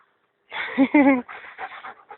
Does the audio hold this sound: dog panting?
yes